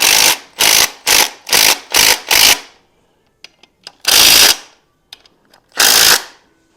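A power ratchet or impact tool buzzes in six quick bursts, then two longer ones, snugging 13 mm bolts into an aluminum LS alternator and power steering bracket. The bursts are loud and close, with small metallic clicks in the gaps.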